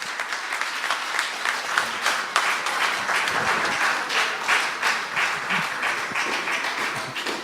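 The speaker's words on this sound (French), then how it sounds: "Acclamons très fort le Seigneur." A church congregation bursts into loud, sustained applause, dense clapping from many hands that fills the room steadily for several seconds.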